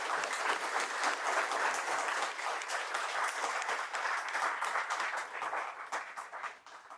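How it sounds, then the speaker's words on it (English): Audience at a finance talk in India gives a big round of applause, dense rhythmic clapping from many people that holds strong for several seconds before thinning out toward the end. "Can you please give him a big round of applause?"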